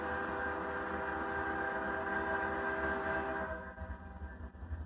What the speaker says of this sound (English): Oh, here comes train. He's gonna be loud.